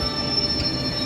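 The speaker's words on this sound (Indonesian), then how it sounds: "Kereta api Cirebon fakultatif melanjutkan perjalanannya dari Jatinegara menuju Jakarta Gambir." Cirebon Fakultatif passenger train arriving at Jatinegara station in Jakarta, a close, steady high-pitched squeal of wheels on rails over a low rumble, with no voices.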